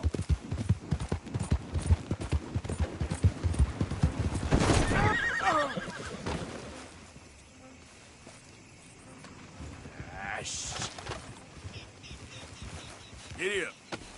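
Horse galloping and neighing in Red Dead Redemption 2, rapid hoofbeats up close followed by a loud whinny, then quieter stretches with further snorts and neighs, and a person speaking intermittently.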